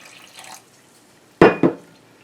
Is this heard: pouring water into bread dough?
yes